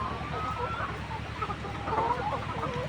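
Chickens on a layer poultry farm clucking softly and steadily, a low chorus of fowl murmurs with occasional brief calls, faint and continuous over a background hum.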